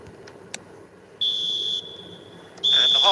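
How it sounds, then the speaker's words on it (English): Referee's half-time whistle in the football video game eFootball 2026: two loud, steady high-pitched blasts, the first held for about half a second and the second longer, over a quiet crowd murmur. "And the half-time whistle goes."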